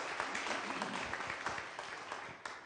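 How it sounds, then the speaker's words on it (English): An audience claps between songs, a steady crackle of applause that fades slightly over a few seconds, heard indoors. "It's okay if you want to applaud in between songs."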